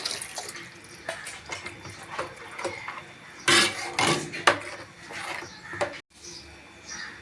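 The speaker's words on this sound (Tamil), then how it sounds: "குழம்புக்கு தேவையான அளவு தண்ணி சேர்த்துக்கலாம்" Water pours and splashes into a pot of kola fish curry in a few bursts, with clinks of metal cookware and a faint voice speaking in between.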